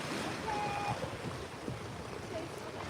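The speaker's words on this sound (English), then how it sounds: "It is pretty windy. Yes, it is pretty windy. Sorry if that is noisy." Strong coastal wind buffets the microphone beside Nubble Lighthouse in York, Maine, a constant gusty roar mixed with surf-like wash and a faint whistle.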